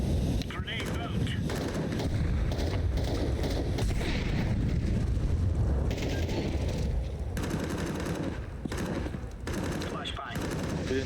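A grenade detonates in the video game Counter-Strike 2 amid near-constant heavy gunfire and machine-gun bursts, with several sharp blasts standing out from the dense, loud battle noise.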